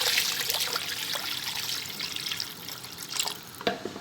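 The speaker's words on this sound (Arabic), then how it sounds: "وبعد كده هضيف لها ميه عشان تستوي" Water poured into a cooking pot of sautéed lentils and onion while making Egyptian koshari, a steady close splashing trickle that runs for several seconds and rises slightly near the end.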